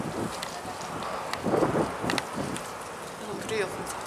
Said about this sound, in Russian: Ой, ветер поднялся, ой, поднялся.